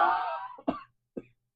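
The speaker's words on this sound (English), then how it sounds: "Let me cough as well." A single person coughs nearby in a quiet room: one long harsh cough, then two short, faint throat-clearing coughs.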